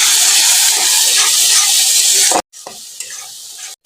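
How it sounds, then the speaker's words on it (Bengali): Onion tossed with turmeric, coriander powder and Kashmiri red chilli powder in a hot pan for chicken kasha gives a loud, dense hiss and sizzle while it is stirred, then drops abruptly to a quieter, intermittent frying sound. "পেঁয়াজটাকে এই মশলার সাথে মিশিয়ে নেব।"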